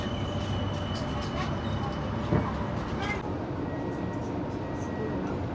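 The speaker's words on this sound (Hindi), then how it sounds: "घंटियाँ बज रही हैं और ट्रेन आ गई" A passenger train pulls into a station in Mauritius, a dense continuous rumble and rolling noise with faint metallic squeals and a brief clank partway through.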